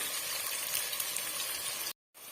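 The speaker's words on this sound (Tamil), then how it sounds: "வெங்காயம் ஓரளவுக்கு வதங்கி வரட்டும்" Onions sautéing in a pan for egg biryani, a steady close hiss and sizzle that cuts out for a moment and then resumes.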